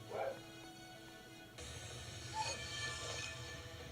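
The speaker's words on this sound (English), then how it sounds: "What is the dog barking at?" A house dog barks a few times in the background, muffled and somewhat distant, over a steady hum of background game sound.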